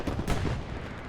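Rockets and artillery booming in a war video game match, a dense rumbling barrage of blasts with one sharper crack standing out over the dull, continuous low roar.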